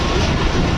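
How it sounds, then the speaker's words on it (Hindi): Karachi Express train running on the rails, a loud, dense steady rumble of wheels and carriages heard up close without a break for under a second. "तो ये PF म्यूजियम के पास से गुजर रही है ट्रेन"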